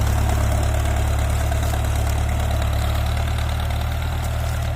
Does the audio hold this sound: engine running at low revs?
yes